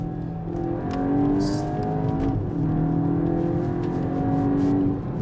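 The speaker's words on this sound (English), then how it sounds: "I'll just drop a few gears and see if you guys can hear it" Mk8 VW Golf GTI Clubsport engine revving hard as it shifts from second into third gear, a loud, steady, close-up engine note that climbs and dips with each change, with no talking.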